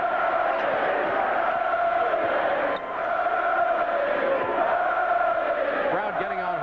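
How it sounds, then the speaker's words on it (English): Basketball arena crowd at a Georgia Tech home game against Duke jeering a player, a steady dense roar of many voices with brief swells, loud and continuous throughout. "Crowd getting on Hurley a little bit."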